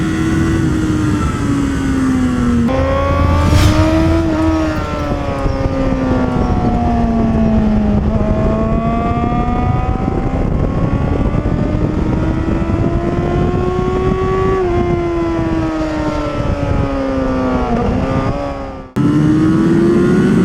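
A Honda car accelerates hard on a race track, its engine note rising and falling through gear changes, loud and close, from an onboard position.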